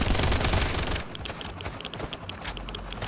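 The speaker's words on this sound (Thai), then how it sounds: "แต่ว่าเรายิงไปเยอะมากอ่ะไม่พังสักทีหนึ่งอ่ะนี่" Rapid gunfire crackles in the Last Island of Survival video game, a dense burst at first, then scattered sharp shots continuing at moderate loudness.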